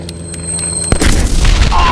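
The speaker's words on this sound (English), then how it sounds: "we just got blown up by a pumpkin bomb" A pumpkin bomb explodes in a comedic puppet parody, a sudden loud boom that follows a quieter stretch and rumbles on briefly afterward.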